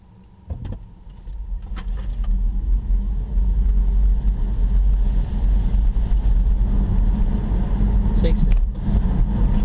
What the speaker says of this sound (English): let's do an electric launch. Let's test out the 0 to 62 time.